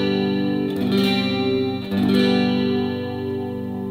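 An electric guitar played through a compact Yamaha THR10C amp with a chorus effect rings out, with two strummed chords struck in succession, each leaving a shimmering, sustained tone that slowly fades.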